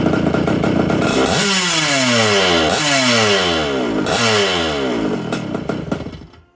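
A vintage Atlas BM 100cc reed valve engine, made for a methanol carb but breaking in on gasoline. It runs loud and close with a rough, buzzing two-stroke drone that repeatedly revs up and sags in three falling sweeps before dying away, with no talking.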